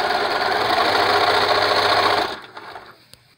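Close and loud, a sewing machine top stitches a fabric mask cover in one continuous whirring run that stops abruptly, followed by a few faint handling clicks.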